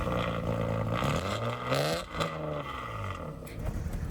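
A car engine runs and revs near the microphone, with a rough, throaty tone that rises and falls in pitch over several seconds. No one speaks.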